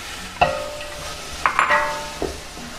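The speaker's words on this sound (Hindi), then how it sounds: "ये प्याज हमारे नरम हो चुके हैं इसमें अब हम गाजरें डालेंगे इसमें ये गाजर डाल देंगे और ये मटर भी डाल दें" Carrots and peas are stirred into softened onions frying in a pan: a few scraping, clattering stirs over a low sizzle, with no talking.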